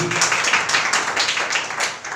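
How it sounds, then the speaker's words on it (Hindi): A church congregation claps hands together in quick, rhythmic bursts, loud and close, filling the short stretch without speech. "ताली बजाओ जी।"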